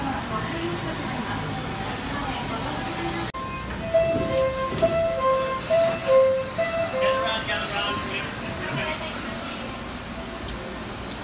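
Inside a moving train, a steady rumble and hum fill the carriage while a chime sounds and a voice speaks partway through.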